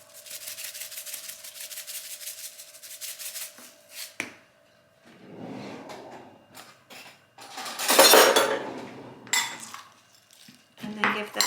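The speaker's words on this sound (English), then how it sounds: "And then give that a really good stir so that the oil and the seasoning mixes in well together." Chips are tossed with oil and chip seasoning in a bowl, giving scraping, clattering stir strokes against the bowl in uneven bursts, loudest midway and with brief pauses between.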